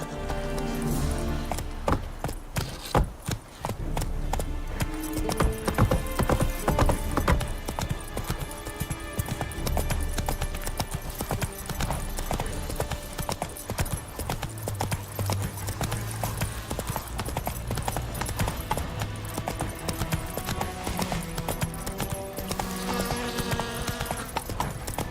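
In The Witcher 3, the horse Roach gallops, hooves pounding in a fast continuous rhythm under game music and ambient sound, close and steady throughout, with occasional snorts.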